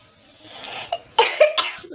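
A man coughs several times in quick, rough bursts close to the microphone during a Counter-Strike gaming session, with faint game sounds behind him.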